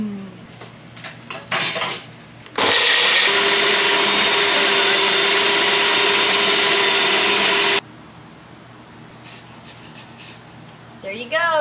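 A handheld mixer or blender whirs steadily for about five seconds while mixing a drink for a child, starting and stopping abruptly, with brief rustling and clatter before and after.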